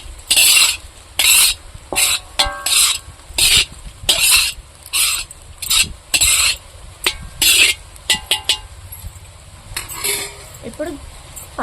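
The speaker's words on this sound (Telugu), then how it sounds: "ఎగ్ రైస్ కూడా సూపర్గా వచ్చేదే ఒకసారి కలుపుకొని తీసుకుందాం" Egg fried rice is stirred and tossed in a pan, a run of loud, rhythmic scraping and clanking strokes from a metal spoon against the pan, with a faint sizzle in the pauses.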